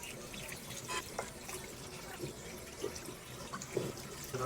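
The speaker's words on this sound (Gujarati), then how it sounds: "તો પાણી ચાલુ કરીએ।" Tap water runs steadily over an ice-covered phone, a faint, hissing wash of flowing water with small splashes and drips scattered through it.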